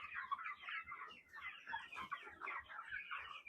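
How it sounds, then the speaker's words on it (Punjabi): Desi (country) chickens cluck repeatedly at close range on a farm, a busy overlapping chorus of short clucks with no talking. "ਮੁਰਗੇ ਦੇਖ ਸਕਦੇ ਹੋ ਬਾਈ ਤੁਸੀਂ"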